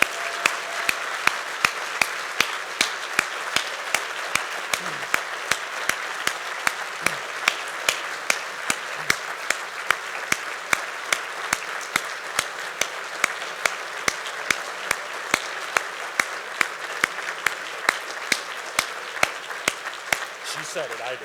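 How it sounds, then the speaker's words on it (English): A round of applause at a breakfast event, steady clapping from a seated audience, with one or two hands near the microphone punching out sharp, regular claps above the rest. "Let's give her a big round of applause."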